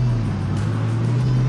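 Porsche 986 Boxster engine under acceleration, a steady low droning hum with a strong sustained tone, heard from inside the car at a constant loud level with no speech.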